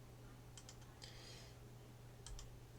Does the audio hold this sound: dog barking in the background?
no